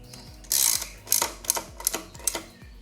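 A hand ratchet clicks in short bursts, five or six quick runs of close, crisp pawl ticks, tightening valve cover screws on a Toyota or Lexus engine, with no talk.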